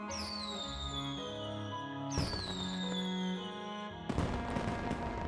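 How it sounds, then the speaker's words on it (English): Fireworks bursting in the video game StarSavior: three distinct launches, each a rising whistle followed by a bright crackling burst over a sustained musical backdrop, moderately quiet. "Who launched fireworks already?"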